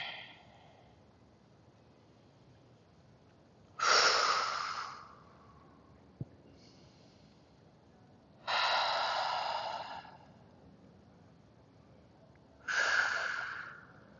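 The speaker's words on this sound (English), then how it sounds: "Full breath in," Slow, deep yoga breaths, three long audible exhalations spaced several seconds apart with softer inhalations between, close and fairly loud against a quiet room.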